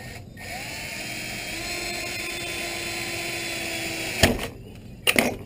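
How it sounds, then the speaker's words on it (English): A power drill pre-drills into tough plastic with a steady high whine that holds for several seconds, close and clear, followed by two short clattering bursts as the drill stops. "I guess I should be pre-drilling this. This is a tough plastic ore."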